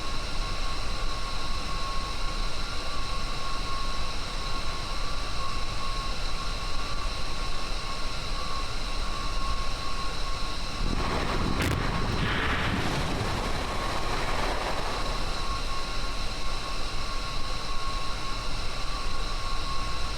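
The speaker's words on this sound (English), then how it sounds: "go into a lake with an airplane." An airplane in Kerbal Space Program plunges into a lake, a sudden burst of splashing impact noise rising over steady engine and wind drone, then fading back to the constant hum.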